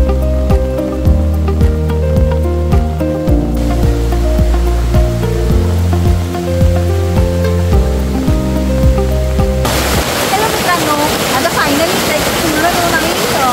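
Heavy rain pours through a forest near a waterfall at Lonavala, breaking in as a loud, dense, steady roar during the last few seconds after a long stretch of music.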